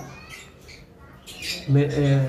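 Pet lovebirds let out a few short, sharp squawks close by, overlapping a person talking.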